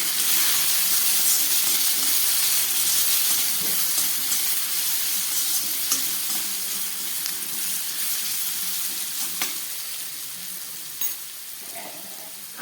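Potatoes fry in hot oil with a loud, continuous hissing sizzle, broken by occasional crackles and pops, gradually easing slightly toward the end.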